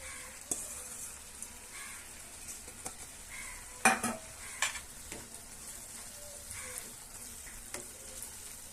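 Tamarind leaves stirred into an egg curry in a pan, with a spoon scraping and clinking against the metal in irregular strokes over a soft sizzle, fairly quiet and close, no voices.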